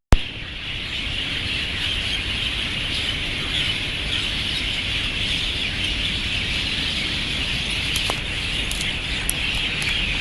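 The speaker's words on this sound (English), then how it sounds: "As you might be able to hear, the birds are chirping." Birds chirp at dawn in Singapore as the light comes up, a dense, steady wash of calls and trills at moderate distance with a few sharper chirps standing out.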